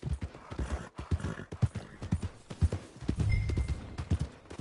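Horse hooves clip-clop in a steady rhythm in Red Dead Redemption 2, close and clear, with a brief whinny partway through over faint ambient sound.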